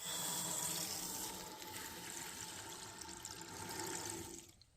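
Water rushes steadily from a newly opened well valve, a strong, continuous hiss and gurgle that holds throughout and eases slightly at the end.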